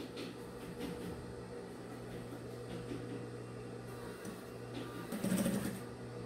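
A sewing machine stitches a cotton fabric wallet, running in a steady mechanical hum with a short, louder burst near the end, close and alone.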